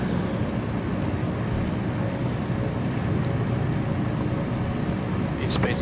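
A bush plane's engine at full takeoff power in Microsoft Flight Simulator 2020 gives a steady, broad droning roar at constant loudness, with a voice talking over it.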